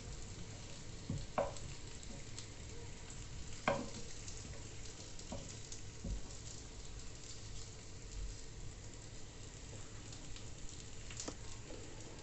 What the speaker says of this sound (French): Donc on les retourne bien pour qu'elles soient cuites uniformément, qu'elles soient bien dorées partout.